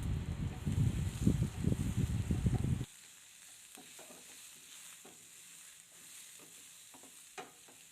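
Roasted honey chicken stirred in a pan, with loud close scraping and sizzling strokes at first, then a quieter steady sizzle with occasional soft clinks.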